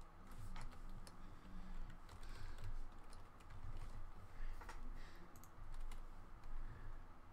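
Faint typing on a computer keyboard: quiet, irregular clicks of keystrokes in short bursts over a soft background hum, with no speech.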